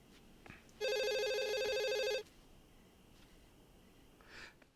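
A telephone rings in a horror film scene, one long electronic ring lasting over a second, loud and close, then quiet room tone with faint soft noises afterward.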